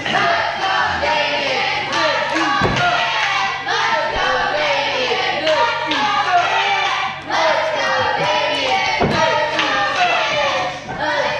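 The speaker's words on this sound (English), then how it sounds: "there's more in the crowd cheering for Nick Natural than I expected" Wrestling crowd at a live indie show cheering loudly and continuously, with shouts, scattered claps and occasional ring thuds, while a commentator talks over the noise.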